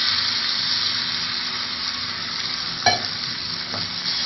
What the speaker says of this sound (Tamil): இந்த டைமில் நம்ம இப்போ வச்சுருக்க இந்த தக்காளி அதில் ஆட் பண்ணிக்கலாம்.